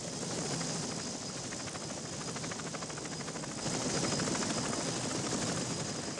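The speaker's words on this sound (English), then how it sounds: "The Huey was able to carry 11 soldiers and their equipment." Huey helicopter in flight in a Vietnam War setting: a loud, steady rotor roar with a rapid rhythmic chop and broadband rushing noise throughout, slightly louder toward the end, no voices.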